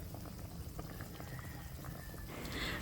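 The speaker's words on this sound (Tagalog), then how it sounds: "So, ayan na nga po, kumukulo na." A quiet, steady bubbling of a pot of pork and potato stew at a boil, soft and continuous, with a faint hiss rising near the end.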